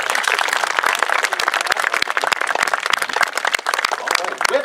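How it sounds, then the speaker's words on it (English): A crowd claps loudly and continuously at a Napoleonic siege reenactment at Old Fort Erie, a dense fast patter of hands with scattered voices mixed in. "round of applause."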